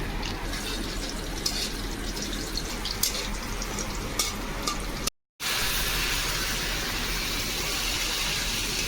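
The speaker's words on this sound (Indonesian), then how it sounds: "Tambahin bawang putih sama cabai ya. Different. Ini alright. Oke, ini kita tumis dulu ya." Garlic and chili sautéing in a pan, giving a steady hissing sizzle close by that runs without pause except for a brief dropout partway through.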